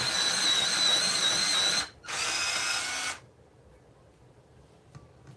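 Electric pencil sharpener grinding a wooden pencil in two loud, close whirring bursts with a brief gap between them, followed by quiet room tone.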